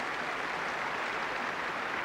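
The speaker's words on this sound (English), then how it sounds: "he acknowledges the tumultuous applause at the end of this annual celebratory occasion here in Vienna" Tumultuous applause at the end of the New Year's Day concert in Vienna, a thick, even roar of clapping hands that stays loud and unbroken throughout.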